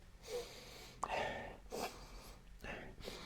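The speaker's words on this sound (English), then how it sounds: "Let me just give it the sniff test." Several short, breathy sniffs close to the microphone as a person smells a leather-feel tri-fold folio case for an iPad, with brief pauses between the inhales.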